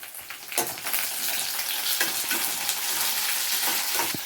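Garlic and curry leaves sizzle and crackle in hot oil in a pan for fish curry, a steady loud frying hiss with occasional stirring scrapes.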